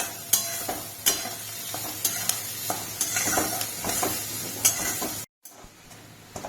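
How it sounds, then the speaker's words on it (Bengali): Onions fry over medium heat in a pan for chicken bharta, a spatula clicking and scraping through them in quick, uneven strokes over a steady sizzle, broken by a brief silent gap near the end. "এবার এটাকে আমি ভালো করে ভাজবো।"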